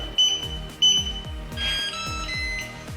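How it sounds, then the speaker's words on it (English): A battery-powered smart lock keypad sounds after code entry: two short electronic beeps close together, then a longer tonal chime sequence, with mechanical clicks pulsing underneath. "as soon as you get that beep"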